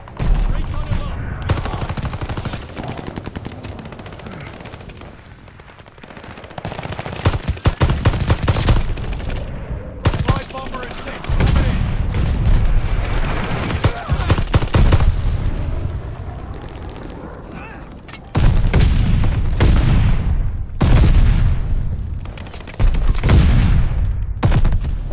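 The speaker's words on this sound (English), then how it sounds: "So many explosions that I'm scared." Gunfire and explosions in the Vanguard video game: dense bursts of rapid automatic fire and heavy booming blasts come in loud waves with brief lulls, some speech mixed in under the battle noise.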